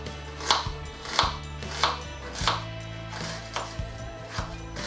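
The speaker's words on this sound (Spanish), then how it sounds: "La vamos a cortar a lámina" A knife slicing an onion into thin slices on a board, seven evenly spaced crisp chops in a steady rhythm, close and clear with no voices.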